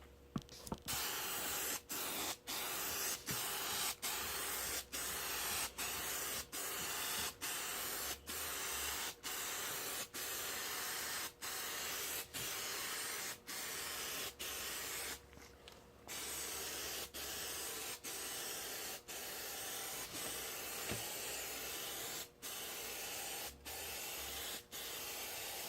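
Spray adhesive hisses steadily onto a model aircraft build in a close, continuous spray, with brief regular breaks and one longer pause, no talk.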